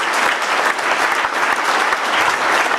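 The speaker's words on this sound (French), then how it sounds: "vous pouvez l'applaudir." An audience applauds Geneviève Levy at a 2017 New Year's greetings event: dense, steady clapping from a large crowd, loud and sustained throughout.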